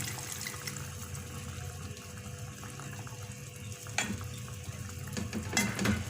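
Angara chicken simmering in a pan as half a cup of milk goes in, a soft bubbling sizzle with liquid sloshing and a few sharp spoon scrapes and clinks against the pan, quiet and close.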